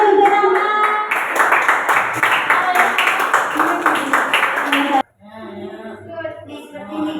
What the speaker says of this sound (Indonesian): Aplaus untuk Rama.